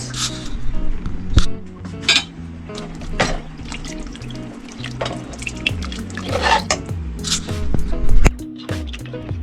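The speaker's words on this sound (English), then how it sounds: "So we will just keep on stirring and let it cook until the sauce thickens" A utensil scrapes and clinks against a pan while sweet and sour sauce thickened with cornstarch sloshes, with irregular knocks and a louder clatter near the end.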